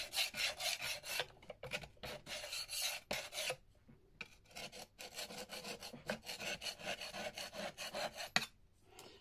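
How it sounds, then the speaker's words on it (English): Glue residue scraped by hand from a surface where brick slips were removed, a quiet, close, rhythmic rasping of repeated short strokes with a few brief pauses. "just give it a bit of a scrape"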